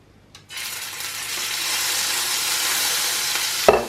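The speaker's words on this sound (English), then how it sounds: "sear that fat off a little bit" Rump steak fat searing in a hot pan gives a loud, steady broadband sizzle that swells in after a brief quiet start and holds for several seconds, ending with a small clunk.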